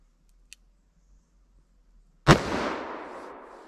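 A single sharp, loud gunshot from a .44 Magnum revolver firing a 180-grain load cracks out after a near-silent pause, followed by a decaying echo and a faint click just before.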